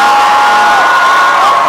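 A large homecoming crowd at a live Howard show roars loudly and continuously, a dense wall of cheering with a high sustained shout or whistle cutting through it.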